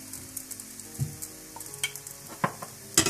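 A paratha frying in butter on a pan, with a steady close sizzle broken by several sharper crackles and spatula scrapes, loudest near the end.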